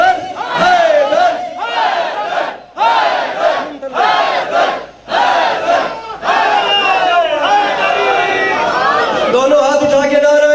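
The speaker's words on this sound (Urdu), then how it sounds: "دونوں ہاتھ اٹھا کے نعرہ حیدری" A large crowd at a Shia majlis in Chak 185 EB, Gaggoo Mandi, Burewala, loudly chants the slogan Naara-e-Haidari in repeated surging shouts with short breaks between them, and the roar swells into sustained massed voices.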